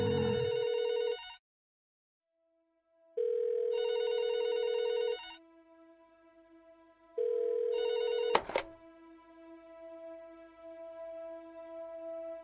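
A telephone bell rings in three loud bursts separated by pauses, followed by a sharp click as the receiver is picked up and a faint lingering hum afterward.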